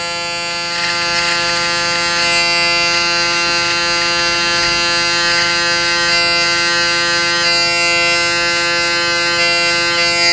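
The back trimmer of a Braun Series 9 Pro electric shaver runs close and loud with a constant, even electric buzz and whine that holds steady for about ten seconds without pause.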